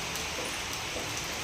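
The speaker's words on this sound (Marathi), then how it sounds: "आता वाजलेले 5:30 आणि पावसाला जोरात अशी सुरुवात झालेली" Heavy rain pounds the tin-sheet roof of a house, making a steady, dense wash of hiss and patter that fills the whole moment without a break. It stays even and moderately loud throughout, with no voices.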